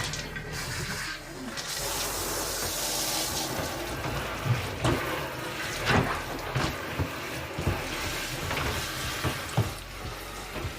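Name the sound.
portable washing machine filling with water for rinse cycle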